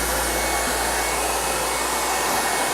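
An airsled blowing a strong, steady rush of air beneath a nearly 2,000 lb safe holding hardwoods, a loud continuous whooshing like a vacuum cleaner or hair dryer, alone without talk.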